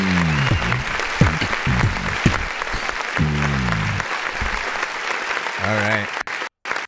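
Applause sound effect from a clap button fires during a live music review stream, a steady dense wash of crowd clapping lasting several seconds while someone talks over it, ending abruptly.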